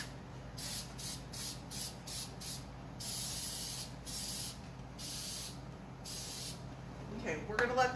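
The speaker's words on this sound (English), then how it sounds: "I'm actually going to take a coat of shellac" Short bursts of aerosol spray as a can of shellac clear coat is applied over a wooden side table, about a dozen hissing puffs in an uneven rhythm, close and fairly quiet.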